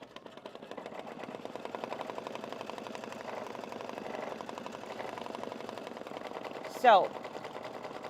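Sewing machine stitching a satin stitch over heat transfer vinyl, a faint steady rapid needle patter throughout, with a brief voice and a short sharp sound near the end.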